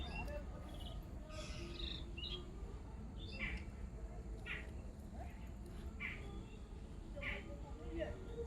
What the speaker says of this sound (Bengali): আর সকাল সকাল কত রকমের পাখির ডাক শুনতে পাচ্ছেন আপনারা।